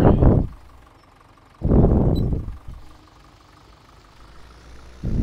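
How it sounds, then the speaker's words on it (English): A tractor engine in the Farming Simulator 17 video game on a grass-work farm job turns over and runs, with loud rumbling bursts separated by a quieter steady idle. "And start the tractor."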